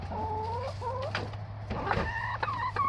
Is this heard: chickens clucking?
yes